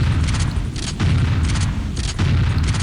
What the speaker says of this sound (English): Of course, he also has the super shotgun.